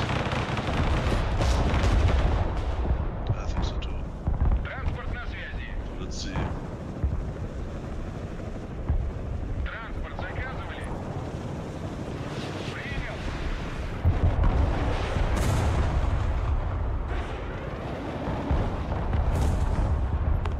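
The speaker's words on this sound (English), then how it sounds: "Watch out. Artillery." Artillery fire in the real-time strategy game Broken Arrow, loud repeated booms and rumbling blasts pounding throughout, with voices talking over the barrage.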